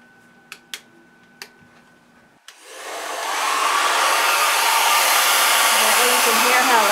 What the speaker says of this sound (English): We're going to blow dry a little bit of her hair back here.